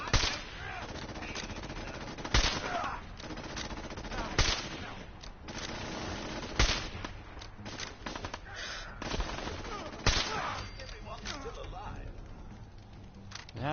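Pipe pistol gunfire in Fallout 4, a run of sharp single shots spaced irregularly over a steady game background, with occasional louder bursts near the start and middle.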